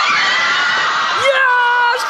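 A school class of children shouts and cheers together in a loud, sustained roar of high voices, with a few shrill whoops rising near the end, as if heard over a live link on a children's TV show.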